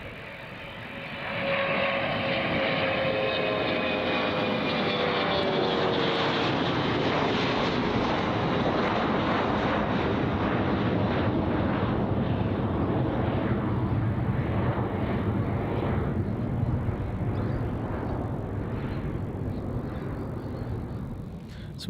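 Airliner taking off steeply at Melbourne Airport, a loud sustained jet engine roar that swells and then slowly fades as it climbs away, heard alone outdoors.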